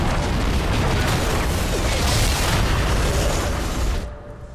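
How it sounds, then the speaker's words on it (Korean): A hideout is bombed in a film scene, producing a loud, sustained explosive roar with rumbling debris that fades sharply at the end. "한니발 일행은 린치에 의해 거점을 폭격당하게 됩니다."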